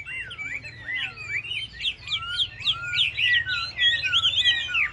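A tame, well-groomed Chinese hwamei songbird sings a rapid, varied run of clear whistled phrases and trills, loud and close, with the song intensifying toward the end over a faint low background hum.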